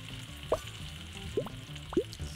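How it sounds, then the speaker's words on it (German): Onions fry on a griddle in the burger-cooking game Galaxy Burger, a soft sizzle with a few scattered pops over steady background music. "Die Zwiebeln können wir auch schon mal schön anbraten."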